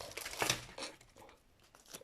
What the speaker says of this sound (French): je vais utiliser mes ciseaux pour ouvrir le petit emballage